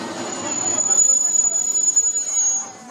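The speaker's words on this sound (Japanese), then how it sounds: "この列車は景観の美しいところで時々止まっていきますのでどうぞごゆっくりご覧になってください。" The Sagano Scenic Railway trolley train near Arashiyama, Japan, rumbles along with steady rolling noise and a thin high whine, while a Japanese guide's voice talks over it throughout.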